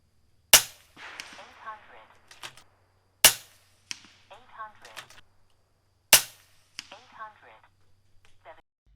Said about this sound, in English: Here's a few shots down range at 120 yards at some 8-inch targets and 3-inch targets.